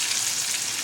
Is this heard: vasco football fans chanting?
no